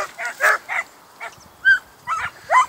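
A pack of hunting dogs bays during a chase. Half a dozen loud, separate barking howls come at an uneven rhythm and echo from a short distance.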